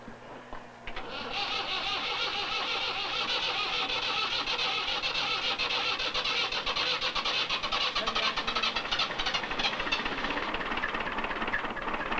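A boat engine with a knocking rod and a failed bearing cranks briefly, catches after about a second and settles into a steady, loud running drone that continues evenly without talk.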